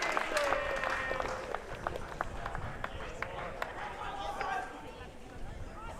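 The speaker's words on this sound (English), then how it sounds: "We just hear some pretty ecstatic cheering in the background." Spectators at a pro pickleball semi-final in Brisbane cheer and applaud continuously from a distance, a broad crowd roar with scattered claps and calls that holds steady before easing slightly near the end.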